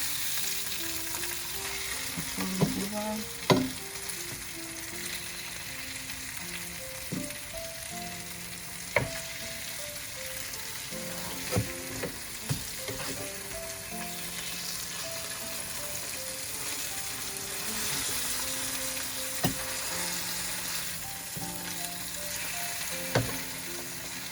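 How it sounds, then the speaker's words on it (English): Salmon fillets fry skin side down in a pan for lemon salmon, giving a soft, continuous sizzle with scattered utensil clicks over gentle background music for about twenty seconds, with no talking. "So now I'll flip it aside, just so it starts to cook on the skin side now."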